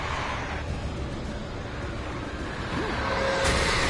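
In the horror game Alan Wake, a car engine hums and swells louder as the vehicle bears down, ending in a sharp hit as it strikes the player character, with no speech.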